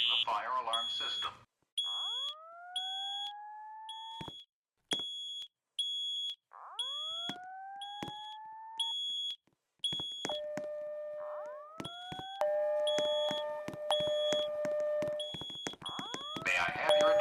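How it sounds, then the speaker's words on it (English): A building fire alarm system under maintenance testing sounds in repeated bursts: rising whoop tones and sharp electronic beeps in a stop-start pattern, loud and echoing, with stretches of silence between cycles and a recorded voice announcement woven in. "Disregard any fire alarm signals. Maintenance is testing the fire alarm system."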